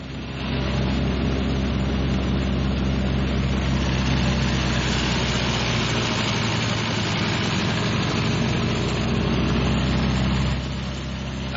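Martin B-26 Marauder medium bomber piston engines running steadily at high power during a ground run-up, a loud, continuous low droning rumble with heavy vibration that holds at a constant level throughout.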